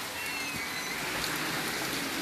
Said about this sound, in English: Yep, it's some heavy rain.